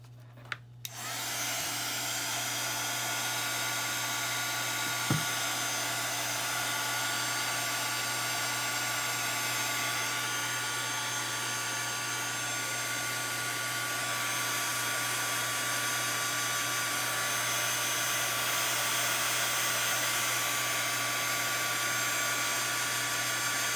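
A hair dryer dries Tim Holtz mica stains on a craft project. Its steady, close whir runs alone and unbroken for over twenty seconds after a brief start.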